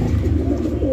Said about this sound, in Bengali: নরের ডাকটা দেখছেন একদম ভরপুর ডাকের নর